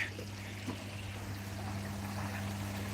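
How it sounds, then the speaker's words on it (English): Water runs steadily while a koi pond filter is back flushed, a soft continuous pouring rush over a low mechanical hum, with no talk. "Yeah, now we finish back flushing"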